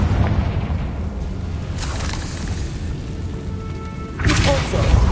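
Confringo blasting spell in a Harry Potter-style wizard video game sets off booming explosions, a burst near the middle and a louder one near the end, over a dense rumbling game background.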